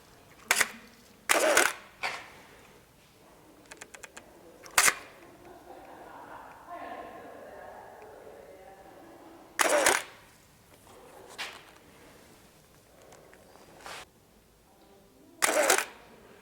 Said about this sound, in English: I'm going to stick on the tripod and take that shot